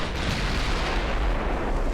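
Torpedo hits striking a ship in a naval warfare game, a loud, deep rumbling blast that fills the moment with a dense, sustained boom and no talking.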